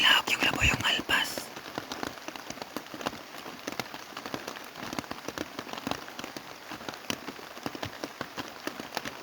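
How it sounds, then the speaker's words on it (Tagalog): Rain patters steadily on surfaces outdoors, a dense crackle of drops close by, with a brief bird call or voice at the start. "Wrong timing mga kanter, umulan pa."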